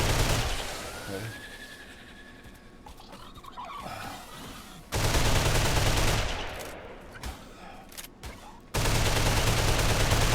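Gunfire in Ark Survival Evolved during a taming session, loud dense bursts of shots that cut in and out abruptly, with quieter game ambience in the gaps.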